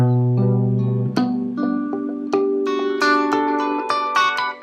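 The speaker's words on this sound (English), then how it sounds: "I'm running this through the Kemper profiler, and I'm using a profile by Andy" Clean electric guitar chords through a Kemper profiler ring out one after another, each strummed or plucked and left to sustain, with bright harmonics and no voices.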